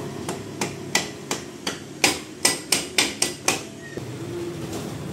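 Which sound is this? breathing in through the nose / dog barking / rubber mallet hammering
rubber mallet hammering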